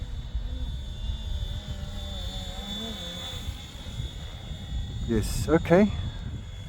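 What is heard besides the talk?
Flywing H-Ace scale RC helicopter descending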